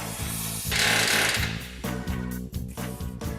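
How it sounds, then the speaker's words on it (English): Rivets are knocked out to cut a stock spring hanger off a truck frame with a loud pneumatic hammer pounding in a rapid steady rhythm, briefly interrupted by a hissing burst, close and without talk. "Then we'll cut the stock spring hanger off of the frame by removing the rivets."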